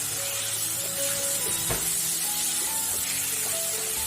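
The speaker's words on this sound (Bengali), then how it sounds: "এরকম হালকা ভাজা হয়ে গেলে ম্যারিনেট করা মাছগুলো দিয়ে দিলাম" Marinated ilish (hilsa) fish sizzling in hot oil with lightly fried onion and garlic, a steady close frying hiss with a brief sharp crackle burst partway through, no talk.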